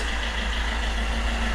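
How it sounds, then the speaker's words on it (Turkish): A Toyota car's engine idles with a steady, even low hum and a faint higher whir, constant and close with no variation in level. "rahat bir şekilde geliyor bu arabanın sesi"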